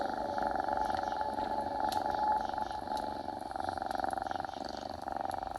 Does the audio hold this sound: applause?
no